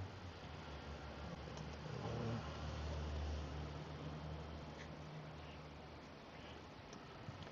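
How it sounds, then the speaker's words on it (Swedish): A car passes at a distance, its engine swelling to a broad, faint rumble that peaks midway and then fades under steady outdoor noise, with no talk. "Bil."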